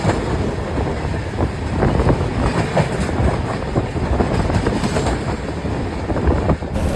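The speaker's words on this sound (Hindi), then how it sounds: "ट्रेन के जनरल डिब्बा में ऊपर बैठे हुए हैं" Inside a crowded general coach of the Amritsar–New Tinsukia Express as it runs, a loud continuous rumble and roar of the moving train with faint rhythmic clatter of wheels and rushing wind, steady throughout with no talk.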